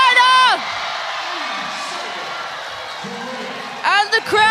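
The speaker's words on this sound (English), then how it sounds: "And the crowd go absolutely bananas." A basketball arena crowd at Sydney Olympic Park erupts in loud, sustained cheering and whooping after China's win over Korea at the FIBA Women's Asia Cup, with a commentator's voice over the top at the start and end.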